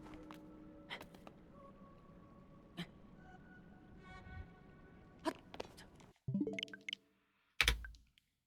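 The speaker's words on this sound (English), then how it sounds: "Typing on a TV remote. Does that even count as typing?" Buttons on a TV remote being pressed for typing, giving faint, sparse clicks at an uneven pace, followed by a few louder knocks near the end.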